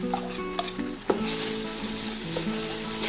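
A close, busy sizzle of ginger garlic paste frying in a pan for Ambur-style chicken biryani, with crackling spatters and a few sharp clinks of stirring; no speech.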